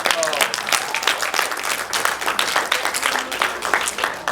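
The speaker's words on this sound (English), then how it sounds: "You're about to want to give yourselves a round of applause." A crowd at a political talk in Lihue, Kauai applauds, dense overlapping claps with scattered sharper hits, loud and sustained across the whole stretch.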